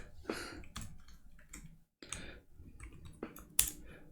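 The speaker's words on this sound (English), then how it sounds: "Type in your website URL." Keys clicked on a computer keyboard while a website URL is typed, a handful of separate, fairly sharp taps spread out with short pauses between them, close and quiet with no talking.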